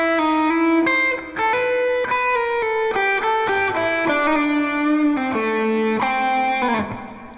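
A pentatonic rock lick played slowly on a distorted electric guitar, clear sustained notes stepping one after another in a close, loud solo line that rings out and fades at the end.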